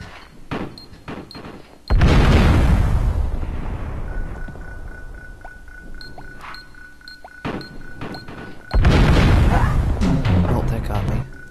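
Loud explosions boom twice in the video game Abe's Oddysee as a mine blows up, each followed by a long rumbling decay, with gunfire-like pops and a steady electronic tone in between.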